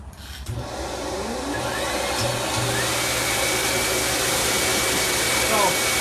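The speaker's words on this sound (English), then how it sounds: "So I'm going to fire up these blowers real quick." A livestock blower used to dry a calf's coat at a wash rack starts up after a brief click and rises into a loud, steady roaring whoosh that carries on unbroken, close to the microphone.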